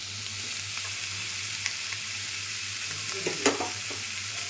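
Chopped onions frying in a pan for a simple boiled chicken dish, a soft, steady sizzle heard close and alone, broken by a couple of brief clinks from stirring near the end.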